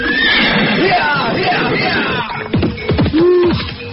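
A horse whinnies in a rising and falling call, with a second neigh near the end, as a rider mounts; voices talk over the first part.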